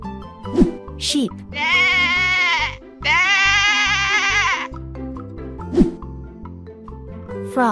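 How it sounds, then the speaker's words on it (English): Cartoon sheep bleating twice in an animated children's animal game, two long wavering bleats over steady bouncy background music, with brief sound effects between. "Sheep."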